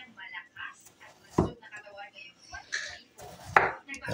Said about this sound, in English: we're going to take these potatoes and just slice them in real thin slices